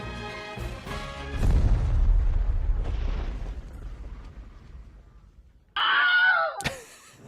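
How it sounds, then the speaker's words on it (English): Cannon fire in the Triangle Strategy video game blasting apart a shield of steel and stone: a heavy booming impact with a long low rumble that fades out, followed by a sharp crumpling crash near the end. "A peal of cannon fire washes over the sandy wastes, and is answered by the crumple of steel and stone."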